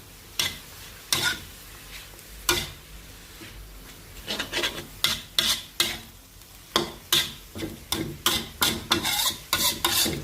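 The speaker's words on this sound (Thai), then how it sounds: "ผัดต่อเลยค่ะ" Repeated scraping strokes of a spatula stir-frying noodles in an old wok, quickening into a steady rhythm, with a faint sizzle between strokes and no talking.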